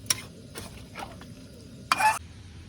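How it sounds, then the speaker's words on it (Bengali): Chicken masala being stirred in a pot inside a toto e-rickshaw: scattered scraping clinks of a spoon against metal, a louder rattling scrape near the end, over a quiet background hiss. "এই দেখো, আমাদের টোটোর মধ্যে হচ্ছে রান্নাটা।"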